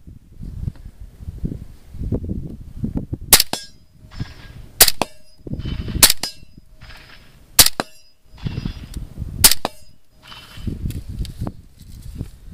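Suppressed rifle shots ring off steel targets at a range, five sharp reports each followed by a metallic clang, spaced a second or two apart, with quieter talk and movement between them.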